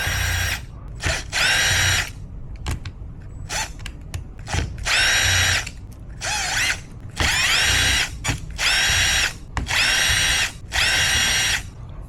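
A power driver with a 2.5 mm bit backs out screws from the bottom of a Traxxas T-Maxx 3.3 RC truck, about eight loud whirring bursts of a second or so each, separated by brief pauses and small clicks.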